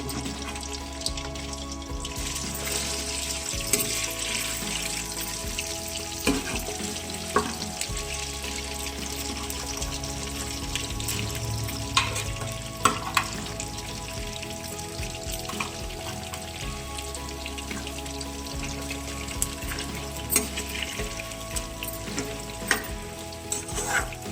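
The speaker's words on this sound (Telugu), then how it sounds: "చికెన్ని మనం మొత్తం రెడ్ కలర్ వచ్చే వరకు ఫ్రై చేసుకోవాలి" Chicken pieces frying in hot oil for a chicken pickle, a steady loud sizzle with stirring scrapes throughout, no voices.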